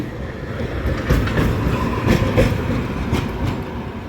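A tram rumbles steadily past at close range in Sofia, its wheels giving a rhythmic clatter over the track joints.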